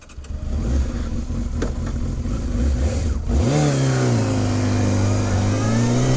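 A 2002 Yamaha YZF600R sport motorcycle idles with a steady mid-pitched engine note, then revs up sharply and pulls away, the engine tone rising and holding loud and close as the bike rides off.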